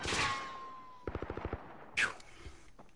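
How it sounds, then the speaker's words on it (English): Gunfire in the video game Warzone: a sharp shot, then a rapid burst of about six automatic rounds, followed by another sharp crack and scattered fainter shots, loud and close. "Now I'm getting shot from somewhere else."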